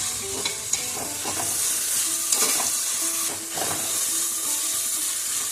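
Chicken frying in oil in a pan for pulao, with steady close sizzling and hiss and several spoon-stirring scrapes and clinks over the top throughout.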